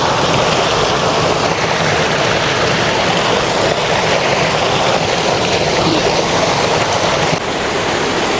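Cold, fast-flowing mountain stream in the Pauri Garhwal hills, rushing water making a steady, loud broadband roar that holds evenly throughout without pause.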